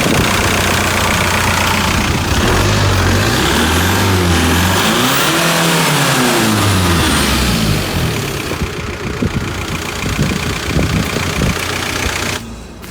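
A Seat Leon 1.9 TDI diesel engine, heard up close at a steady idle with a slight knock, then revved up and back down once before it settles into idle again, with no talking.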